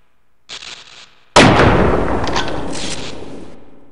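A single loud gunshot in the video game Half-Life: Opposing Force cracks sharply and leaves a long echoing decay, after a quieter short mechanical sound.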